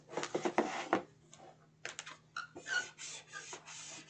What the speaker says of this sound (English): I have to do a little bit of cleanup by removing this overhang, and I'm simply doing that with my scissors